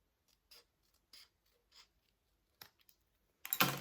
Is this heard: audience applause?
no